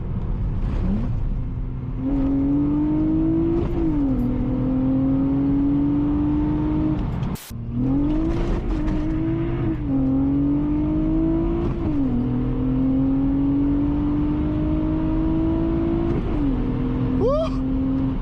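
A manual Honda Accord coupe with a loud J32 V6 pulls hard through the gears, its engine note climbing steadily and dropping at each shift, close and loud from inside the cabin, with a short dropout partway through.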